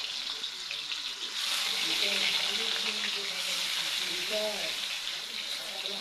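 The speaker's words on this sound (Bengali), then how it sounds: "এক এক করে মাছ ছেড়ে দিচ্ছি।" Rohu fish pieces sizzle steadily in hot mustard oil in a kadai as they go in one by one, a bright crackling hiss that grows slightly fuller, with a faint voice briefly underneath.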